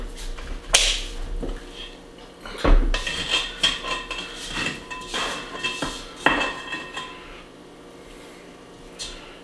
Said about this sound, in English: Give the bowl 1 more scrape.